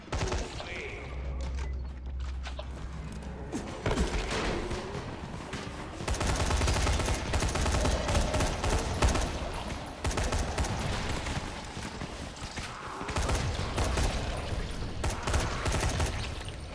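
Gunfire in the video game Dying Light, heard as loud, sustained volleys of rapid shots with dense bursts and brief lulls, filling the whole stretch.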